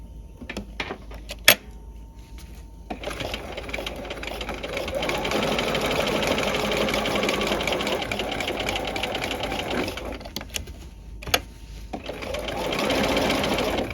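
A sewing machine runs along the cut edge of a seam allowance while sewing a tab welt pocket, starting after a few clicks and humming steadily for several seconds, then pausing and resuming near the end.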